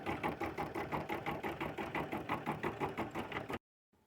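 An Ursa embroidery machine stitches a dish towel hanger, its needle pounding in a fast, steady mechanical rhythm at close range for several seconds before it cuts off abruptly into silence.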